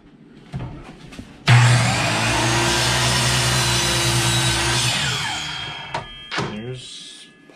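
A power saw on a miter box cuts through two wooden boards at once for a custom boat console, a loud whining buzz lasting about three and a half seconds, framed by knocks and handling noises before and after.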